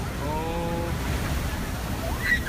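Large ocean waves, estimated at 15 to 18 feet, crash on the coast near a pier at Cabo San Lucas, making a steady churning roar with wind noise and no speech.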